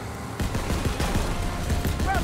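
Machine gun fire in the World War II shooter Call of Duty WW2, heard as loud, dense bursts of rapid shots over steady engine rumble from a moving vehicle, with a voice briefly audible.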